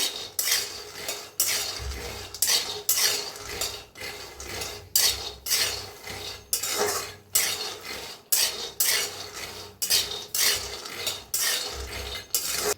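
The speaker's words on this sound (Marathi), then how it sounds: "शेंगदाणे भी चांगलं भाजायचं" Peanuts being dry-roasted in a pan are stirred steadily, a metal spoon scraping and rattling the nuts in quick repeated strokes, close and fairly loud, with no one speaking.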